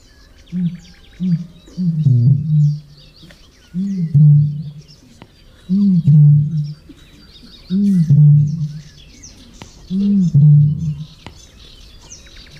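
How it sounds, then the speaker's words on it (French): A Eurasian bittern gives its deep booming call in a repeated series, each low, hollow boom arriving about every two seconds, close and loud, with faint higher birdsong in the background. "Le butor étoilé."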